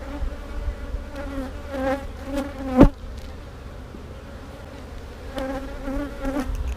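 Around an open hive, honey bees drone in a steady buzz with a single sharp knock partway through, the hum swelling and easing as bees pass near, and no speech.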